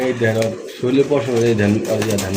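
Pigeons at a breeder's collection give soft, low coos, half buried under close, continuous conversation between men.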